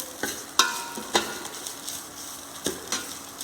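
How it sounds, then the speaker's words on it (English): Tomato sauce roasts in a pan while a spoon stirs and scrapes the bottom. Irregular sharp scraping knocks stand out over a soft, steady sizzle, close up with no voices. "and keep stirring so it will not stuck at the bottom"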